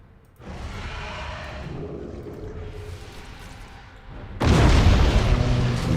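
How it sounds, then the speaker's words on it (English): Torpedoes launched in the space strategy game Battlefleet Gothic Armada 2, a sustained rumbling whoosh that swells, eases, then jumps to a louder roaring burst near the end. "The torpedoes are on their way."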